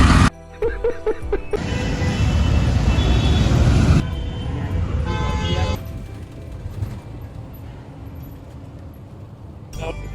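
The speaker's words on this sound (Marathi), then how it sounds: "गाड्यांचा आवाज जास्त येतोय. आम्ही हायवेवरती बसलो बस स्टॉपवर" Highway traffic rumbles past a roadside bus stop, with vehicles roaring by and a loud passing rush, while a few voices speak briefly near the microphone.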